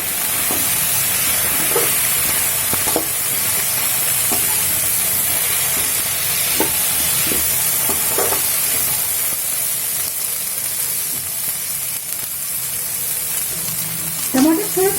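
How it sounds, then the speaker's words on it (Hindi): Tomatoes frying with onion in a pan for a fish dish, a steady close sizzle running throughout with scattered soft taps and stirring clicks, louder spatter near the end. "मैं 2 टमाटर ऐड कर दूंगी। अभी इसको भी ऑनियन के साथ थोड़ा सा फ्राई कर लूंगी।"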